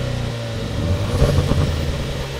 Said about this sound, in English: It's our new four-cylinder petrol Ingenium engine with 300 horsepower.